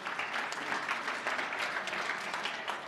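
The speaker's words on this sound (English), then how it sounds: "A round of applause for our minister" An audience applauds the minister at the 2024 Namibia Annual Sport Awards, a dense, steady wash of clapping from a large crowd lasting throughout.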